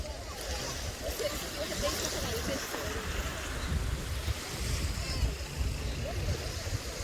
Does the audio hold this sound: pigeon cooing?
no